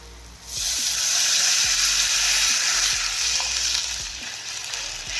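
Water poured into hot spiced oil for a saoji patwadi curry sets off a loud, steady hiss that holds for several seconds and then eases slightly, with faint pan knocks beneath.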